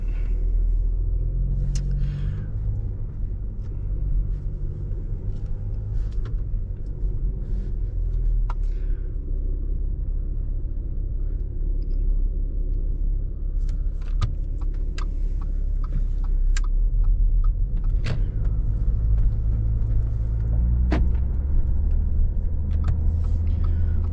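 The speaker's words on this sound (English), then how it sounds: "and under the hood there is a V6 engine" Audi A4 B8 sedan from 2015 with a 3.0 TDI V6 diesel making 245 hp and an automatic transmission, heard while driving: a steady low engine and road rumble runs throughout with light interior ticks, and no one talks.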